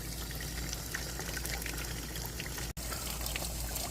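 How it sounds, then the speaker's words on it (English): Water flushing steadily out of an RV water heater, a continuous dense rushing splash at close range with only a split-second break partway through. "I'm gonna keep it flushing though because I want it to flush clear."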